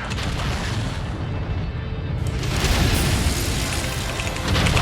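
Rocket explosions in the video game MechWarrior 5: Mercenaries, a dense, continuous roar of booming blasts and rumbling impacts that swells louder toward the end, loud and close, with no speech.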